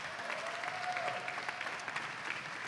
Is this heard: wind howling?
no